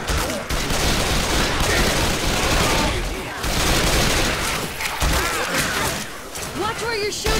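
Heavy, continuous gunfire fills a round of the co-op zombie shooter Left 4 Dead 2, loud and dense with rapid bursts, while game character voices call out over the shooting.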